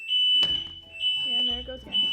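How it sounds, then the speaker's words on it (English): A fire alarm sounds in loud, piercing high beeps that repeat in bursts, while people talk over it in a room during a clay jewelry bowl craft session. "The fire alarm kept going off for some reason."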